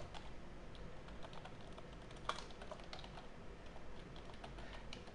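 Steady typing on a computer keyboard, a soft continuous patter of key clicks over a low background hum, heard alone with no talk.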